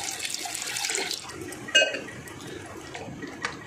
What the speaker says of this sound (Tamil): இதில் பாதி அளவு தண்ணியை ஊற்றி நான் வந்து கொதிக்க வச்சு எடுத்து வச்சுருப்பேன்